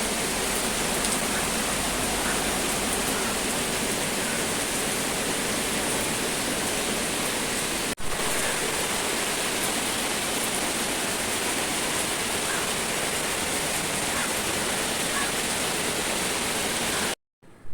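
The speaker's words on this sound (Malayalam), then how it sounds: "കുറച്ച് കഴിഞ്ഞപ്പോഴത്തേക്ക് ഭയങ്കരമായിട്ട് മഴ പെയ്തു" Heavy rain pours down steadily in a dense, unbroken roar, loud and close throughout, ending abruptly near the close.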